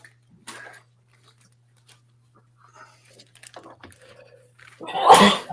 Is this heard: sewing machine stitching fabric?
no